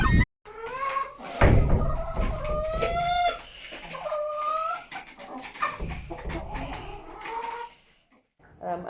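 Several backyard chickens cluck and chatter close by in an orchard-side poultry flock, with layered overlapping calls and brief louder squawks against a steady farmyard background.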